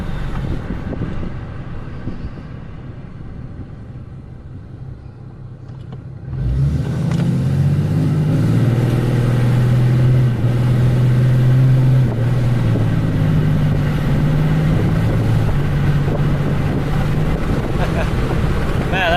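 A 2019 Cummins diesel truck with an emissions delete accelerating, heard from inside the cab with the window open: a low, steady rumbling drone that swells and holds, mixed with wind and road rush, no talking.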